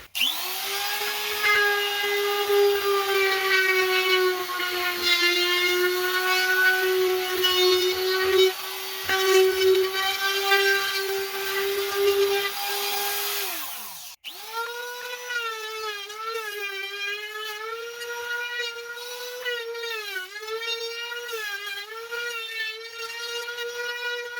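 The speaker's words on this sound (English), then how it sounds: "Took a router, drilled it out, and that was my first step." A router cutting into a wooden bass drum shell from a cheap drum kit, a loud steady high motor whine that dips briefly then resumes at a slightly wavering pitch, with no talk.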